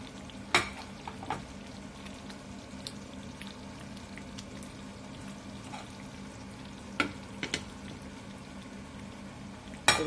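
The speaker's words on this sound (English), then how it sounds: "So the chicken's gone in, and we're going to give this a good stir." Chicken pieces stirred into simmering butter chicken gravy with kasuri methi in the pan, giving a steady low sizzle and bubbling with a few sharp clinks of the spoon against the pot, close and moderate, no talking.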